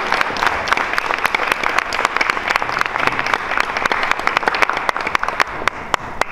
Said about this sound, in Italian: con orgoglio e con un grosso applauso